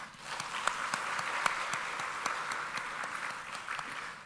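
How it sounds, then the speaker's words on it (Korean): A church congregation applauds after the choir's hymn at a Wednesday worship service, steady moderate clapping from many hands throughout, with no talking. "이들의 찬양과 함께 하나님 앞에 영광의 박수를 올려드립시다."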